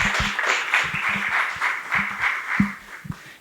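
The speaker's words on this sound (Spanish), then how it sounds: "Un aplauso para Jaime Miyashiro." Audience applause at a panel talk, steady clapping with uneven, loosely spaced claps rather than a dense roar, moderately loud and fading toward the end.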